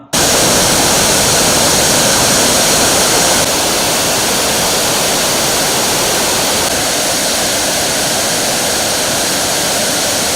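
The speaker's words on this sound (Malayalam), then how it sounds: "പാറക്കെട്ടുകളിൽ തല്ലി നുരഞ്ഞൊഴുകുന്ന ആറ്റുകാട് വെള്ളച്ചാട്ടം കാണാം" Attukad waterfall near Munnar roars with a dense, continuous rushing crash of water over rocks, loud and close, with no voices.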